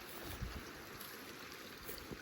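Creek water flows with a soft, steady rushing hiss behind a house, faint and constant, with a few small bumps of handling noise and no voices.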